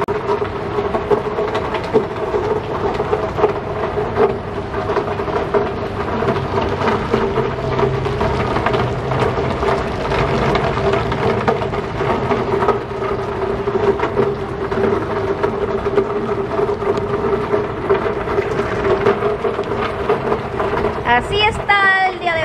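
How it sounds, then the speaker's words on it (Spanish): Steady morning rain falling outside, a dense continuous hiss with low rumbling underneath throughout, and a voice faintly present at times. "Lloviendo."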